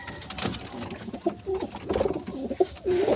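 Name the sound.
racing pigeon cooing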